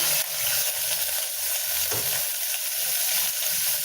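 Onion and garlic fry in a clay pot, a dense continuous sizzle with crackling hiss, close and steady, with faint stirring thumps and no talk.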